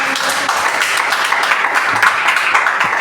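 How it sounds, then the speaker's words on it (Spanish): Congregation applauding during a Spanish-language church sermon, a steady, dense wash of clapping filling about three seconds without any voice over it. "Regálale un aplauso al Señor."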